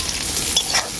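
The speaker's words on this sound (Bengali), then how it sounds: "এরপর আমি পেঁয়াজ আর আলুটাকে খুব ভালো করে ভেজে নেব।" Onion and potato pieces frying in a little oil for a rui fish curry, with a steady close sizzle and occasional stirring scrapes throughout.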